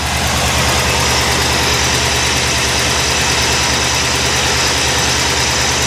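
A vehicle engine idles steadily and loudly up close, a continuous low rumble with a throbbing pulse and no pauses throughout.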